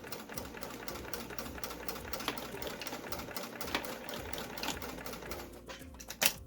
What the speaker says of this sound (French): on va venir faire quelques va-et-vient pour venir barrer notre couture